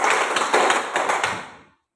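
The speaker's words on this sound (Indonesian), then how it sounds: "Tepuk tangan untuk Firron." Students in a classroom clap together in a short, fairly close burst of scattered hand claps that fades out quickly.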